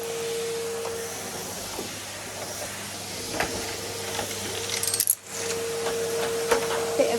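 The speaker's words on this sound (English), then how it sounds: "gravel going up the vacuum." A vacuum cleaner hums steadily in an entrance hall while sucking up gravel, small stones rattling and clicking sharply up the hose at scattered moments, close and without talk.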